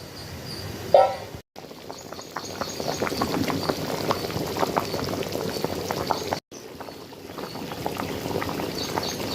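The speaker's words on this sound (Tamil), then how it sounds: "மீன் குழம்பு கொதிச்சு ரெடி ஆயிடுச்சு" A pot of Tamil-style fish curry bubbling at a steady boil, dense popping and gurgling continuing throughout, with two brief dropouts and a short clink near the start.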